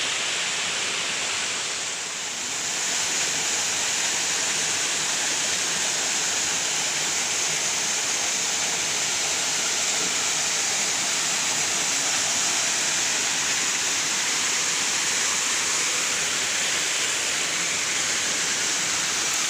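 Ambon Falls in Lobo, Batangas: a continuous, loud rush of falling water recorded close by, a dense steady roar with no talking.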